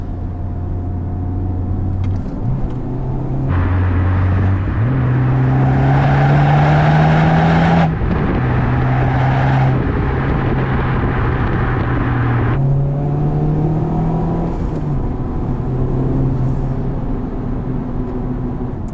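Honda Civic Type R FK8 pulling hard through the gears, a loud, continuous engine note climbing in pitch with brief dips at shifts, close by with no talk over it.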